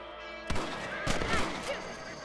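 Two or three sharp gunshots fired at rabbits in Red Dead Redemption, spaced about half a second apart and rising out of a steady game background, with speech present.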